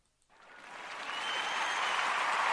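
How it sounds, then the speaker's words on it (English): Crowd applause with cheering for a Washington Capitals Stanley Cup win over the Vegas Golden Knights, rising quickly from silence into a sustained, dense wash of clapping that holds loud to the end. "applause and cheers are in order"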